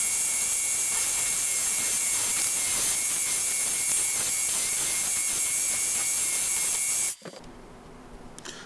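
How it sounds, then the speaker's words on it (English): A strip sander smooths the edge of a workpiece with a loud, steady, whining roar that runs unbroken for about seven seconds, then cuts off abruptly and leaves only faint room noise. "I'm going to clean up all of that with the strip sander"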